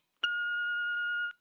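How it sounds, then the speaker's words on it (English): Single answering machine beep, a clean steady electronic tone lasting about one second, loud and alone, with silence before and after. "Please leave a message after the beep."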